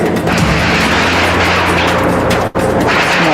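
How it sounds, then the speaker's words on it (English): An explosion goes off after a state police helicopter drops a device, heard as a loud, sustained broadband roar and rumble with a brief dip partway through. "State police helicopter drops it. There is the explosion."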